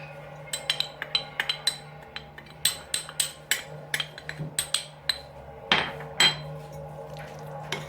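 Roasted eggplant salad being mixed with tahini, garlic and walnuts, a spoon clinking and tapping sharply against a bowl in quick irregular strokes, close and clear with small pauses.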